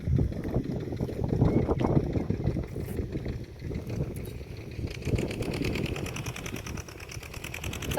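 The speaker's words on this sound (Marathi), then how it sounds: "चालू आहे कॅमेरा, सॉरी चालू आहे ट्रॅक्टर." A farm tractor engine runs steadily out in a summer field during ploughing work, a dense rumbling drone with ticking mechanical rhythm and some wind buffeting, no speech over it.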